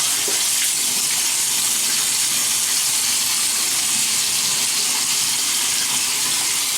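Water runs steadily from a tap as a man wets his face before shaving about a week of stubble, a continuous close hiss with no talking.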